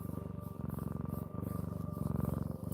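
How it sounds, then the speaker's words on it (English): A cat purrs low and steady close up, its rumbling pulse repeating in long inhale and exhale cycles with brief breaks between them. "He's purring really low."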